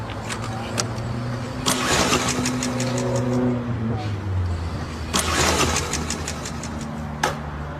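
A car engine cranks and turns over in a cold setting, with rapid starter bursts, rising engine tones and revving, while someone talks over it.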